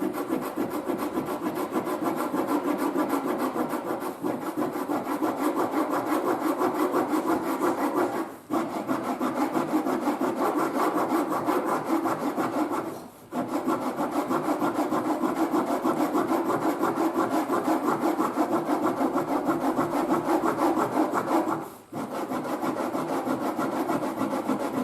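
Tool scraping material away along a line on a leather belt being made with a raised section, a steady close rasping stroke repeated continuously, broken by three brief pauses, with no talk.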